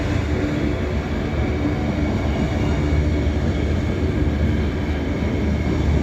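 An empty freight train of TTGX flatcars rolls past, a loud, steady rumble and rattle of wheels holding even throughout.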